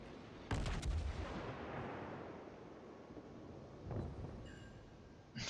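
A Mogami cruiser's turret guns fire in World of Warships, a sharp booming salvo followed by a long rumbling decay, with another shot a few seconds later.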